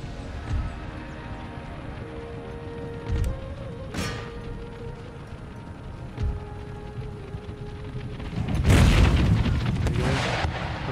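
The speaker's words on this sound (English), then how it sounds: "Artillery's inbound." Distant artillery booms in Empire Total War, a few muffled thuds spread across a battlefield ambience, ending in a louder, heavier blast cluster near the end.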